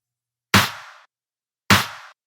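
Quantized dubstep snare samples in Ableton, all triggered together, give two tight, punchy snare cracks just over a second apart, each a single hard hit with a short noisy decay and silence in between.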